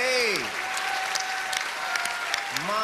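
Audience applause at a Romanian televised singing competition's blind audition, a dense broadband wash of clapping that runs steadily throughout, with a sustained sung or hummed tone and brief vocal sounds layered over it.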